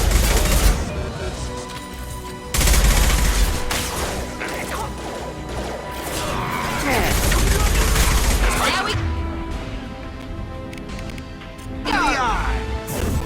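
Mass Effect 2 combat has loud, dense bursts of weapon fire, crashes and impacts layered over a game soundtrack and effects. Characters speak over the chaotic noise throughout.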